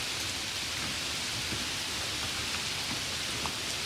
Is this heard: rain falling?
yes